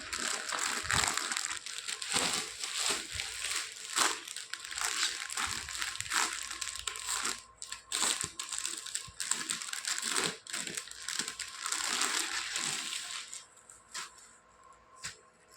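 A saree is unfolded from its packaging, with crinkling plastic and rustling fabric in irregular bursts, close and fairly loud, fading to quieter handling near the end.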